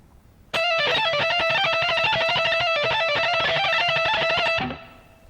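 An electric guitar plays a guitar solo at full speed, a fast, dense run of bright distorted notes starting abruptly and cutting off after about four seconds, with no talking.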